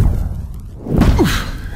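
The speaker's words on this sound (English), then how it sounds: "So I'm gonna add this hard hit effect right here." A heavy impact hit with a whooshing, sweeping tail, one short punchy burst standing alone.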